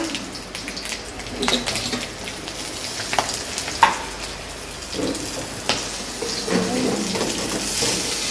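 Nigella seeds, green chillies and dried chillies fry in hot oil in a home kitchen, giving a steady, close sizzle and crackle with a few clinks and scrapes of stirring.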